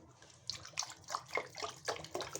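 Water splashes in short, repeated pours into blended ground mustard greens for sarson ka saag, each splash close and fairly distinct.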